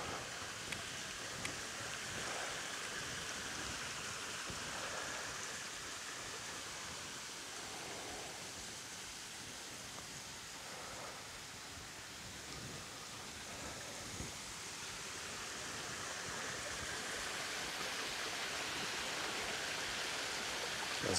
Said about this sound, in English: What a wee kind of weir.